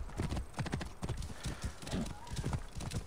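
Horse hooves clip-clop at a steady trotting rhythm in Assassin's Creed Origins, close and continuous, with a brief whinny and faint game ambience underneath.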